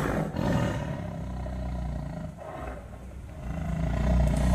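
A deep, sustained tiger roar rumbles loudly and close, swelling again toward the end, with a synthetic, game-like quality.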